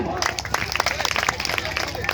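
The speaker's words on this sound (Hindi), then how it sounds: "राम जी की, जोरदार ताली।" Lively clapping from a crowd at a Republic Day quiz program, fast irregular claps with background chatter over a couple of seconds.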